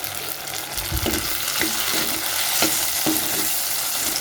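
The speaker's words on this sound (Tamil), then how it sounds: "இப்போ பார்த்திங்கன்னா பூண்டு வெங்காயம் ரெண்டுமே ஓரளவுக்கு வதங்கியிருக்கு" Garlic and onion fry in hot oil in a pan for Tamil vatha kulambu, giving a steady close sizzle broken by several soft scrapes and stirs of a spoon.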